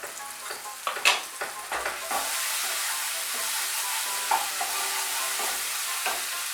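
Poppy paste frying in a pan for a Bengali fish dish while turmeric and salt are stirred in: a steady sizzle with close scraping strokes of a spoon, louder at the start.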